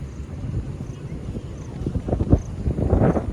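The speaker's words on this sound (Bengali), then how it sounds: "চরম জোর হাওয়া দিচ্ছে এখানে এই জায়গাটাতে, একদম ড্যামের পাশে" Strong wind buffets the microphone beside Tara Dam in Purulia during the monsoon, a steady low roar that swells in gusts toward the end, with no one speaking.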